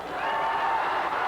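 Wrestling arena crowd at a Continental Championship Wrestling match reacting as a wrestler removes his hat, a steady broad roar of many voices with cheering, sustained and fairly loud throughout.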